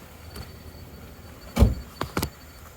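A car door is opened on a roadside stop along the Foothills Parkway near Gatlinburg, Tennessee: one solid, close latch clunk followed by two sharp clicks, over a faint steady background and no speech.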